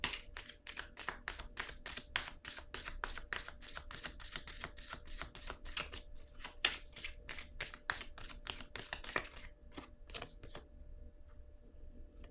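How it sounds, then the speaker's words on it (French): Oracle cards being shuffled and drawn from a deck: a long run of sharp, evenly spaced riffling snaps, close and crisp, easing into a few sparse flicks near the end with no talking. "Attendez, je vais piger une carte noire."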